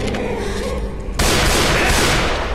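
Gunfire in a zombie shooter game bursts in abruptly partway through, a loud, dense volley of shots that follows a stretch of rumbling background noise.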